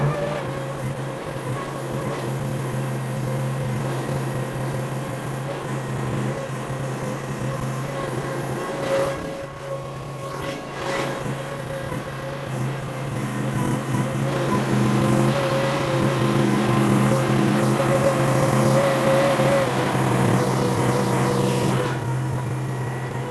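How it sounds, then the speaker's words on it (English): A Chinese mini skid steer is driven down off a trailer, its engine droning steadily with a low, tonal hum. The roar grows louder and busier in the second half as the machine works its way off. "I find it really intimidating to drive that machine up on the trailer and back off"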